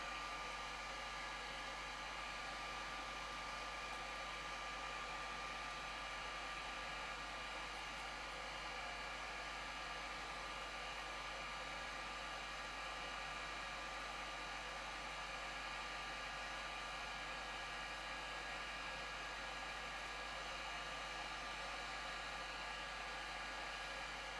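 A hair dryer blows steadily between layers of craft foam while a foam spiral for a hat or wig is shaped, a constant loud airy whoosh with a faint whine, running alone for the whole stretch.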